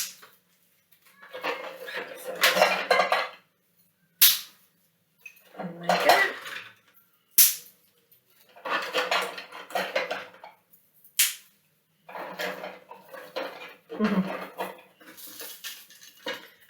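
Handfuls of dry twigs clatter and rattle into a metal can in repeated bursts, with brief pauses between each pour and a few sharp clinks.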